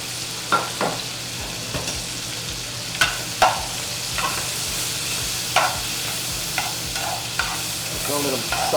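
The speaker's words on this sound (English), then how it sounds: "You hear that nice little sizzle back there?" Shrimp, crab meat and lobster tails sizzle in a hot pot, a constant frying hiss broken by scattered scrapes and clinks of stirring, close by and with no talking.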